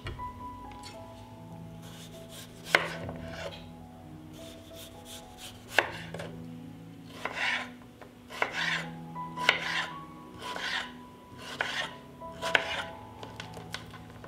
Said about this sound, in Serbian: I sada ću opran krompir iseći.